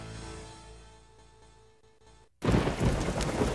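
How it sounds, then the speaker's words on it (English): Fading tonal music cuts off, then a heavy downpour of rain bursts in loud and steady with a low thunder rumble underneath. "Pouring rain, it's real dark outside."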